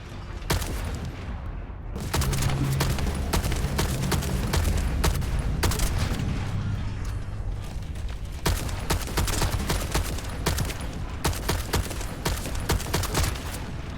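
Rapid bursts of SMG fire in a video game with a generator objective, loud and close, with dense continuous volleys and a brief pause near the start.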